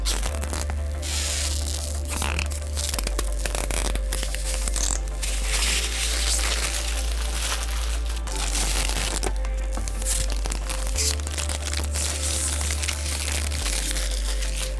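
Protective film crinkles and tears as it is peeled off the glass side panels of a PC case, with close, rustling and crackling bursts continuing over a steady low hum.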